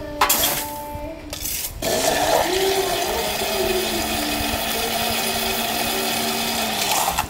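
A cocktail with cinnamon syrup, Angostura bitters, lime juice and crushed ice being poured, starting with a short rattling burst and then a sustained splashing, gurgling flow.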